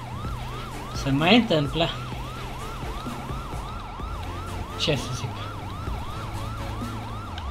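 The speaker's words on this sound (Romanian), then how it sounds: "dacă puteți să auziți sirena, sirenele de la poliție, medici" Police and ambulance sirens wail in a steady repeating cycle through the whole scene in GTA V on a FiveM server, with someone speaking briefly over them.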